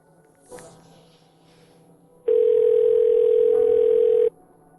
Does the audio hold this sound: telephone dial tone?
yes